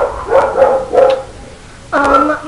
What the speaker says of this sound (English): my dog is barking now.